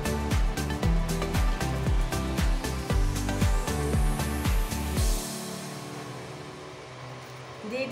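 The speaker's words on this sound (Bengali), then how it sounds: "নারকেলের দুধ বের করার জন্যে মিক্সিতে দিয়ে একটু পিষে নিচ্ছি।" A kitchen mixer grinder pulverises coconut to extract coconut milk in a series of rapid, loud motor bursts, then spins down and fades to near quiet after about five seconds.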